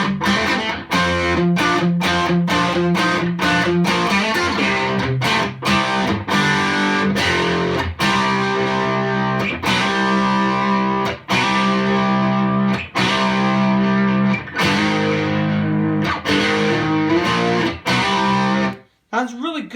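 An electric guitar played through a distortion pedal runs through chords and notes, loud and gritty, ending abruptly in a brief silence.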